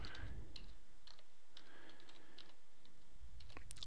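Computer keyboard typing comes through as scattered light clicks and taps, quiet and irregular, with no voices over them.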